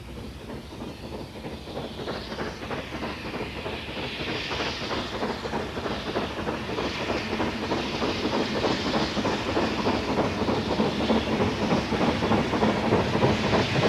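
LMS Class 7F 2-8-0 freight steam locomotive 53809, built for the Somerset and Dorset Railway with a larger boiler, works steadily with rhythmic exhaust beats and rail clatter that grow louder as it approaches.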